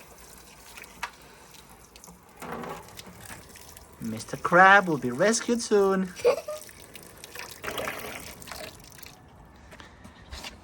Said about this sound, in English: Hot water coming right up.